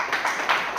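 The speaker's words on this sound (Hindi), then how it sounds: "तालियां बजा दो इस बार।" A group of children clap their hands together in a hostel setting, a few quick, light claps heard close and fairly loud over a brief moment.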